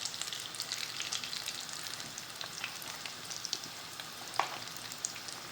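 Egg chops frying in hot oil in a large pan, a steady close crackling sizzle with occasional sharper pops, no voices.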